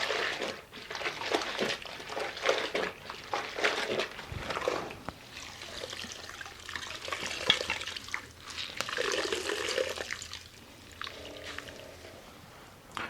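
A floor is mopped with pine-scented Brillo Basics cleaner, the wet mop swishing and sloshing across the surface and being rinsed in a bucket of solution, with irregular splashes, drips and wringing noises at close range.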